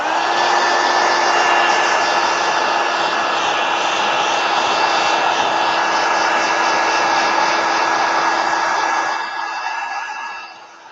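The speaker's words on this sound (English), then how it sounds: "Let me hit that with a heat gun so it doesn't spread." A heat gun blowing steadily on a journal page, a loud, close whine with a constant pitch and a rushing air roar, running without a break before it begins to wind down at the end.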